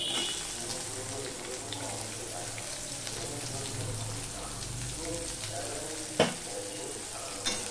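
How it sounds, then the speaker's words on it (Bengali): Garlic and onion frying in a pan over steady heat, a continuous rain-like sizzle with faint stirring and one sharp utensil knock toward the end. "এবার ভালো করে লাল লাল করে ভেজে নেব।"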